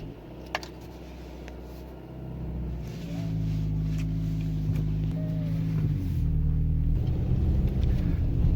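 A 2000 Toyota Camry with newly replaced struts pulls away and cruises, its engine and road rumble building from quiet idle into steady, louder driving noise with a few faint clicks.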